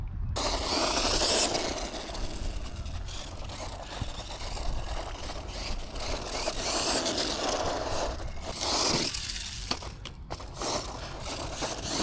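A Losi Mini LMT monster truck, a small radio-controlled model, runs at full throttle with a gritty, whirring drivetrain and a scraping, crunching rumble over the ground, loud and close, surging and dipping repeatedly.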